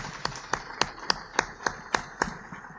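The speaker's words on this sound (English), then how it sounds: "Let's give them a round of applause." Sparse, slow hand claps from a small audience after a panel discussion at a public civic event, about nine separate claps at an uneven rhythm, fairly quiet.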